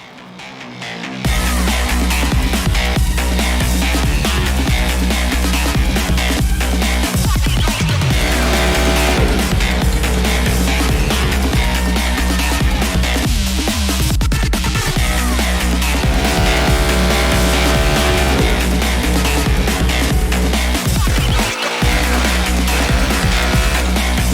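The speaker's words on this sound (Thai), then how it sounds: "เดี๋ยวเราจะเอารถไปขึ้นไดโน่ให้ดูกัน" A Honda motorcycle with a new 4-valve engine runs on a dyno, its engine roaring loud and steady at high revs with rising and falling pitch throughout.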